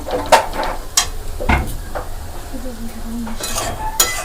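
Basanti pulao rice is stirred and fried in a pan, giving close scraping and clinking of a spatula against metal with a low background sizzle, steady throughout.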